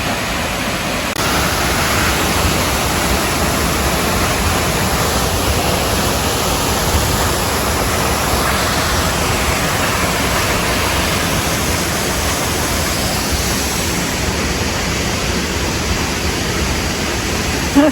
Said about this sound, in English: Hemlock Falls on Hemlock Creek